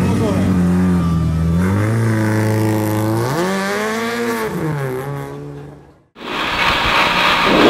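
Close, loud engine of a rally car revving at a stage start in an Italian rally, the pitch rising and falling through sustained revs before a sudden drop and a burst of harsh noise.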